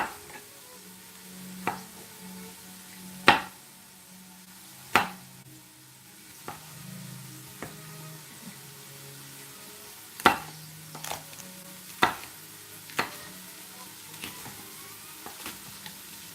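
A dull knife chops food for Hawaiian pork on a board, a series of sharp, irregular knocks near and fairly quiet over a faint kitchen hum, with a low voice murmuring in between.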